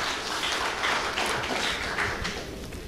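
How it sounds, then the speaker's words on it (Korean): Steady crowd applause at a Korean women's volleyball rookie draft, many hands clapping together in a continuous wash of sound that fades slightly toward the end. "여러분 박수 한번 좀 보내주시기 바랍니다."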